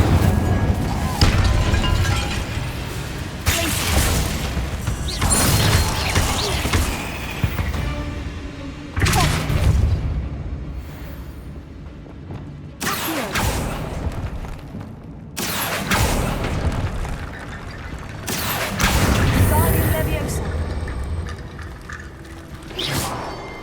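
Spell casts from Hogwarts Legacy, Incendio fire blasts and Accio pulls, burst out in several loud whooshing, crashing waves separated by brief quieter gaps, with sizzling and rumbling effects filling each cast.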